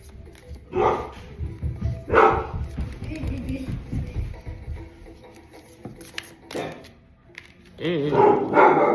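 A dog barks nearby in several sharp bursts, with a couple of separate barks early on and another cluster near the end, mixed with some whimpering and a person talking.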